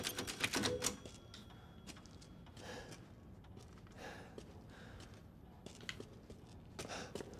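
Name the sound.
saving the game at a typewriter in Resident Evil Village video game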